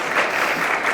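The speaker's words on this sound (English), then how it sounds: "she deserves a clap." Audience applause at a public meeting on democracy, a steady wash of clapping that holds at an even level for the full second with no talk over it.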